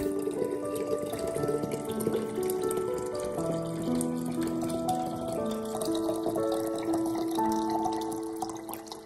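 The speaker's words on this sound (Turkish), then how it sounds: "Üzerine 2 litre su ekliyorum." About two litres of water are poured into a mixture, a continuous close splashing and gurgling whose pitch shifts as the container fills, lasting around nine seconds with no talking.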